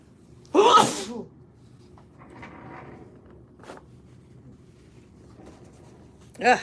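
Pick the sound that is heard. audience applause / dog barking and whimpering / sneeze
sneeze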